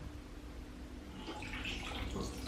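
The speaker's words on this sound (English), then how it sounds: "And then it would start filling up with water." Water runs steadily into a Japanese bathtub, a soft close splashing rush that grows a little fuller and brighter as the tub fills.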